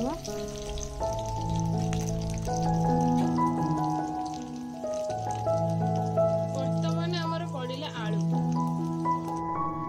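Potato pieces deep-fry in hot oil in a hostel kitchen, a steady hissing sizzle running continuously beneath a prominent tuneful voice or music.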